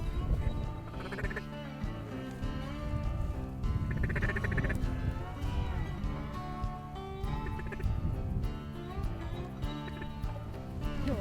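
Ducks quack over and over at Devil's Lake, North Dakota, a busy layered chorus of many birds calling at once, fairly close and continuous.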